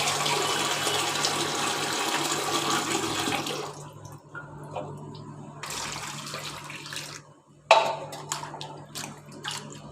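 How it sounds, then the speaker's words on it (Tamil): Water poured from a tap to wash freshly cleaned fish: a steady rushing pour for several seconds, then quieter intermittent splashes and short bursts of running water, close by. "ரெண்டு மூணு தண்ணி ஊற்றி நம்ம கழுவணும்"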